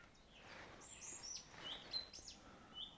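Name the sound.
birds calling near a tent at dusk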